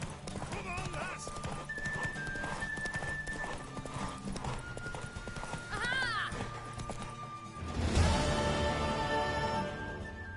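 Horse hooves clip-clopping at a gallop in The Witcher 3 video game, a steady rhythmic beat running throughout, with a horse whinny and game voices and music layered over it.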